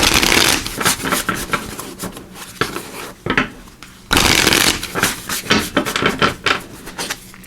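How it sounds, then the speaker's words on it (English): Tarot cards being shuffled up close, quick riffling bursts and flutters in two rounds separated by a short pause, loud with no talking. "let me just give these a quick shuffle"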